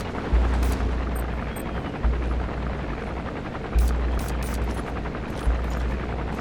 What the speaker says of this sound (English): Looks like the arms dealer's chopper is going to patrol for the security forces.